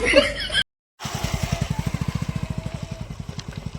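After a brief cut, a passing motorbike engine putters nearby with a rapid, even thumping beat; a voice is heard briefly before the gap.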